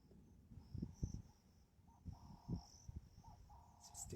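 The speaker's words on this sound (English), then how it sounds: "You can hear sounds of birds" Birds and insects in riverine bush close to a riverbank: a continuous chirring insect drone with thin high whistling bird calls overhead, punctuated by soft low thumps, all fairly faint.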